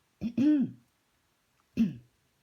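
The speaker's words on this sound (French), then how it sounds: "je vais tousser" Two short, harsh coughs, close by, separated by about a second of quiet.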